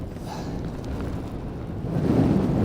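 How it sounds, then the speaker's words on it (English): Strong mountain wind of about 60 knots buffets the mic with rain and passing mist, a steady broadband roar that gusts louder toward the end, with no voices. "60 knots, raining and mist coming and going"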